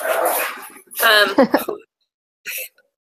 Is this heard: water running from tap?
no